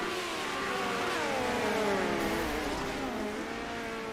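Midget race cars lap a dirt track during qualifying, their engines droning and rising in pitch as they pass, loud and steady for a few seconds with no talk.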